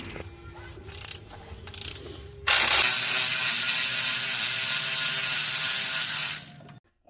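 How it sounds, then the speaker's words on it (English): A ratchet clicks off an alternator bolt on a Toyota 3.4L engine: a few short bursts of clicking, then a long, steady, fast ratcheting whir up close that stops abruptly. "Remove the upper bolt for the alternator."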